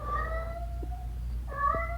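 A house cat named Clancy meows insistently, one drawn-out cry followed by a pause and then another long meow, close by and clear over a low indoor hum.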